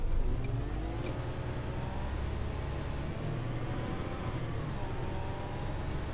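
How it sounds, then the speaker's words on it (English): A bus with a D8K engine in the OMSI 2 driving simulator hums steadily, its smooth and fairly quiet drone shifting slightly in pitch as it runs, close and continuous, with no one talking. "I actually love the D8K engine sounds."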